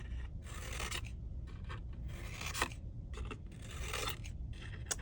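Scissors cut paper palm leaf for a tropical backdrop: a series of close, quiet, crisp snipping and rasping strokes in short repeated bursts with brief pauses between them.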